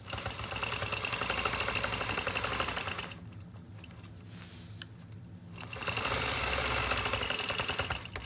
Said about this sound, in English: So I just brace the ruler with my left hand and quilt with my right.